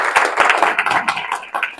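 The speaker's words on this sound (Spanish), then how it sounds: "Denle un fuerte aplauso al Señor." Dense clapping from a church congregation, steady and fairly loud, a burst of applause with no voices standing out.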